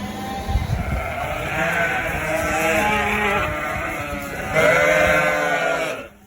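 Ewes being weaned from their lambs bleat loudly and close by, with several overlapping calls that run almost without a break over a low outdoor drone.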